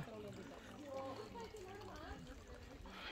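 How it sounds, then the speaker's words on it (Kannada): Spring water trickles steadily from inside the rock at Namada Chilume in the Devarayanadurga hills during summer, a continuous close watery flow with voices talking over it. "ಇಲ್ಲಿಂದ ನೀರು ಕಂಟಿನ್ಯೂಸ್ ಇದು ಬೇಸಿಗೆ ಕಾಲ ಸೊ ಕಲ್ಲಿ ಒಳಗಡೆಯಿಂದ ನೀರು ಬರತ್ತೈತಿ"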